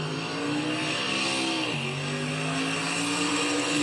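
A race car on a drag racing pass roars continuously at high revs, its engine pitch dipping briefly at a shift and climbing again, loud and steady with no voices.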